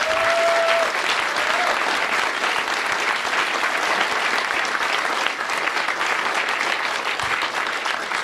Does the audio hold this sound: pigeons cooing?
no